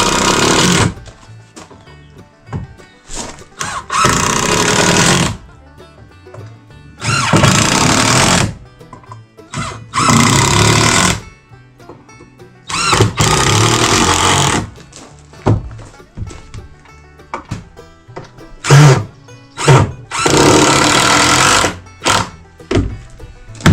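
A power drill drives screws into pallet deck boards in about seven loud, close bursts of motor whine, each lasting one to two seconds, with short quiet gaps and knocks between them.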